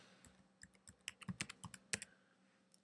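An email and password are typed on a computer keyboard, with irregular light key clicks and a few louder taps, close and quiet with no voice.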